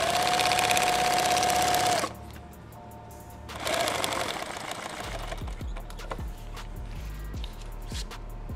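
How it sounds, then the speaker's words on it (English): A sewing machine stitches a Thermacell pouch in two loud bursts of steady rapid stitching, each about two seconds long, separated by a short quieter gap. Softer handling noises and light clicks follow as the fabric is repositioned. "I'm gonna sew right across there."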